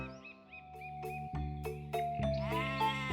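A goat bleats in a series of loud, wavering cries, one after another for a few seconds, with no speech.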